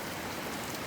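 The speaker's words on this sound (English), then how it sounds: "It's hailing like crazy." Hail pours down steadily during a log home roof install in Montana, a dense, constant hiss of pelting ice with no pauses and no voices over it.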